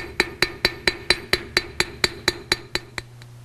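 Metalsmith's hammer planishing a forged, octagonal-section metal piece: a steady series of about twelve sharp, ringing metallic blows at an even rhythm, close and clear with no talk.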